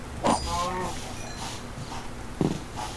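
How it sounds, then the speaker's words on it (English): Cattle mooing in Minecraft, a couple of short low calls standing out over steady game ambience, moderately near. "I see a lot of cows over here."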